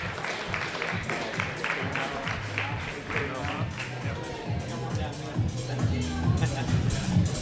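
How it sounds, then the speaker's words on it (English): Crowd applause for the Open B male podium at a Queensland bouldering competition finals, steady dense clapping and cheering held throughout under a loud announcer's voice over a PA. "Let's have one more big round of applause for our Open B male podium."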